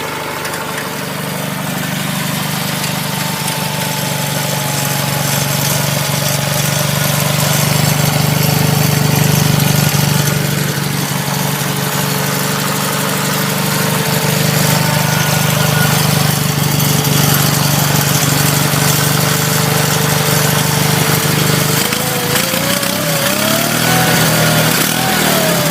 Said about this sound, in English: there it is. 1 month cold start.